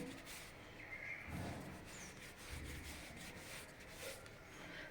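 Hands rubbing spice mix into flour dough for masala shankarpali, a soft continuous rustling and rubbing, quiet and close with gentle swells.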